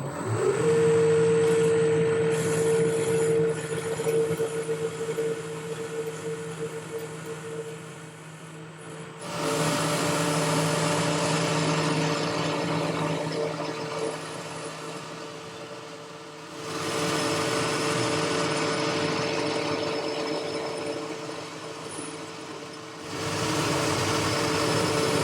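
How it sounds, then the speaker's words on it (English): Metal lathe turning down a 1 inch mild steel bar to 3/4 inch, a steady motor whine with a cutting tone, running in three long passes separated by brief stops, close and moderately loud. "This is 1" mild steel and I need to turn it down to 3/4."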